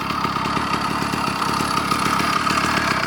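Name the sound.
two-stroke motorized bicycle engine idling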